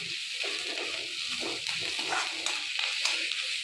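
Chopped onion sizzles steadily in a hot pan for a wheat upma while a spoon stirs it, making a continuous close frying hiss with soft scraping strokes.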